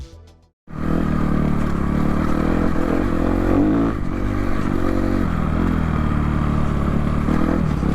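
A dirt bike engine starting after a brief silence, then running loud and close with a rough, throbbing idle and several revs rising and falling, continuous with no talk.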